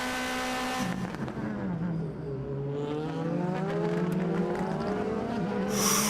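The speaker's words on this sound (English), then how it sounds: "Let's listen to the engine being caned here" A DTM race car engine screams at high revs close by at Hockenheim, pitch sweeping down then climbing again as it pulls through the gears, with loud roaring throughout.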